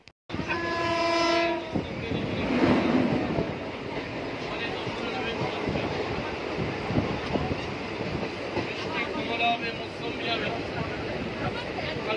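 Riding inside a moving passenger train: a horn sounds at the start over a steady rumble and clatter of wheels on track, with voices talking in the carriage.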